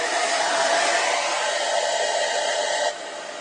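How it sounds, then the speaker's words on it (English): A hair dryer blows with a steady, loud whooshing hum, then drops to a lower setting near the end. "I'm going to use my hair dryer for a second here"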